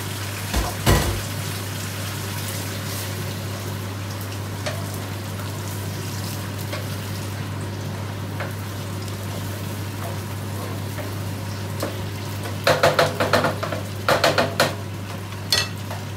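Tomatoes fry in a pan of chicken biryani under a low steady hiss, with a few quick clusters of spoon-on-pan stirring scrapes toward the end.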